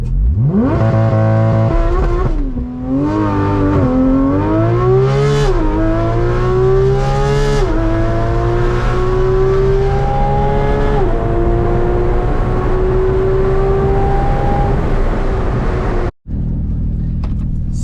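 Porsche GT3 RS launching under launch control, its engine screaming loud and close as revs climb through rapid gear changes, pitch rising and dropping with each shift, then cutting off abruptly near the end.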